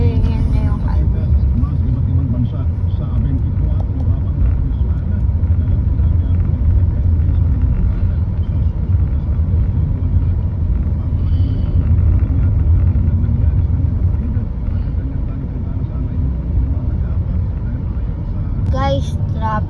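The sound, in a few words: highway road traffic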